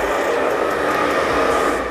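Hair dryer running, a loud, constant close-up blowing roar with a whining motor tone, steady throughout with no voices.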